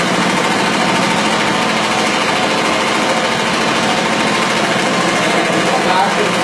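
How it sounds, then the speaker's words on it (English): A rug cleaning agitation machine beating dirt out of an upside-down carpet, a loud, steady rapid mechanical drumming and whirring close by that does not let up. "the agitation from the machine agitates the carpets upside down and beats out the grounded dirt"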